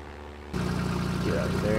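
A plane from Flan's Plane Mod in Minecraft, a propeller aircraft, drones with a steady engine hum that starts abruptly and continues loud and constant, with speech over it.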